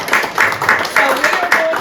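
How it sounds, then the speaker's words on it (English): Audience clapping at a children's and young adult book award ceremony, a steady patter of many hands repeating in even bursts, fairly close and lively, with no voice over it. "So we are going to clap with Wendy."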